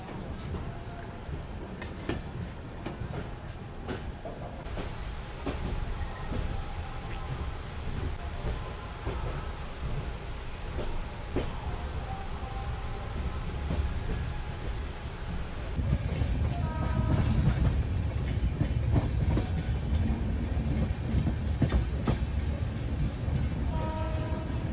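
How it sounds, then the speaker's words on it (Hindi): Chitrakoot Express sleeper-class train running on rails at night after leaving Bandra junction, a steady loud rumble of wheels and carriage with rattling clatter, growing heavier toward the end, no voices. "अपनी ट्रेन का यहाँ से डिपार्चर हो गया है"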